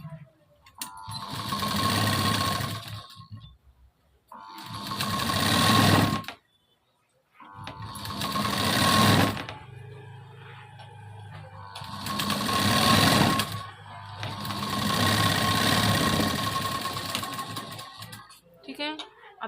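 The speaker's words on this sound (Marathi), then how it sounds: "अस्तरची क्रॉसपट्टी आता यावरती एक शिलाई देऊन घ्यायची." Close, steady whirring bursts from a sewing machine stitching the lining of a katori blouse, running in five runs of a few seconds each with short pauses, while someone talks over the stitching.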